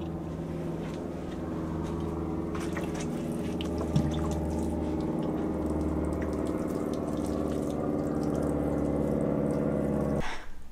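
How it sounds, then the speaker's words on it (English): Water splashes and trickles steadily onto seedlings in a hoop house, a soft continuous pouring with a low background hum, ending abruptly. "I'm just gonna give them a water."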